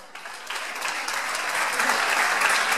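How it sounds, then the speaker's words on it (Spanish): A festival crowd breaks into applause for last year's festival queens, the clapping rising quickly from a soft start and swelling louder and denser over a few seconds. "Un aplauso para ellos, por favor."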